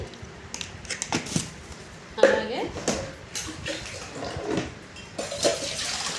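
Water splashes and sloshes intermittently as a mango is rinsed by hand, while a person talks over it.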